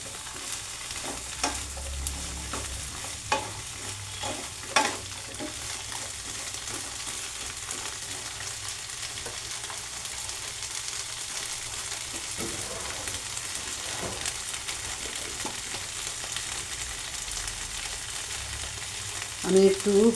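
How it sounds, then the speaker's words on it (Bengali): Cut okra pieces sautéing in onions in a pan, a steady soft sizzle with occasional stirring clicks and scrapes, close and continuous without talk. "এবং সেটাকে আমি একটু পেঁয়াজের মধ্যে সতে করে নেব।"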